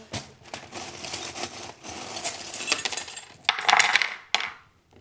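Small metal charms rattle and clink as they are drawn by hand, with one dropping onto a table in a short bright clatter, close up and fairly quiet.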